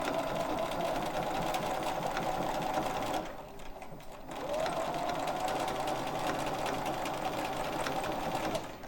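A sewing machine quilts along a seam on a quilt-as-you-go block, a steady close buzzing whir that stops briefly for about a second before running on evenly.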